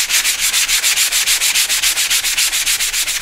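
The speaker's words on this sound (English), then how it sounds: "So you can just kind of lightly go over, a whole area and sand it down." Painted wood sanded lightly by hand, a steady back-and-forth scratchy rasp repeating in an even rhythm of about five strokes per second, close and loud with no talking.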